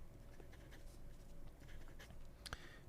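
A Pen BBS No. 6 steel medium nib scratches across paper in short continuous strokes, soft and close, with one brief sharper tap near the end and no voices.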